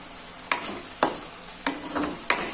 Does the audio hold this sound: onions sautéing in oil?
yes